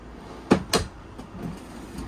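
Two quick thuds of a pull-out drawer sliding shut beneath the counter in the kitchen of a 2025 Forest River Salem FSX 161QK travel trailer, fairly close and alone, followed by faint handling noise.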